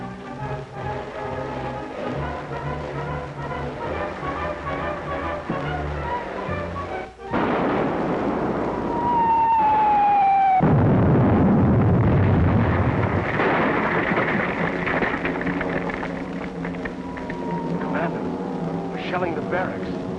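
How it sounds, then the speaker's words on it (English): Artillery shelling of barracks in a 1942 war film: a low rumbling roar with a dull blast midway, then sustained heavy rumble with a whistling tone, loud and close under a continuous mechanical drone. "Shelling the barracks."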